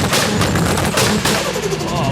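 A Toyota Supra with four-throttle-body intake at an exhaust sound contest, its exhaust crackling and banging in rapid loud pops over a roaring engine, close by, with crowd noise and shouting in the background.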